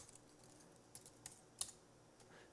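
Quiet keystrokes on a computer keyboard while searching camera clips in After Effects, a few soft irregular clicks over faint room hiss.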